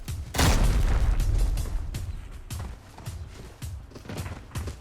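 A loud booming explosion of an explosive box bursts out near the start, followed by a rumbling tail and several smaller pops and thuds in an Arena Breakout game scene.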